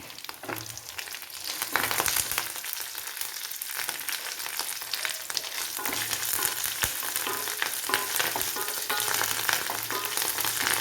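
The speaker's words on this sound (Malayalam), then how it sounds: "നമുക്ക് കറിവേപ്പില ഇട്ട് കൊടുക്കാം" Curry leaves crackle and sputter in hot oil, a dense continuous sizzle with sharp pops scattered across the whole stretch.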